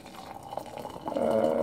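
Liquid poured into a cup or teapot while making tea, a soft steady splash that swells louder toward the end, close by and with no talk over it.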